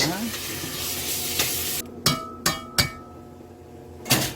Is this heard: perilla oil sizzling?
yes